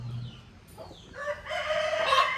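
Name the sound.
chickens clucking and rooster crowing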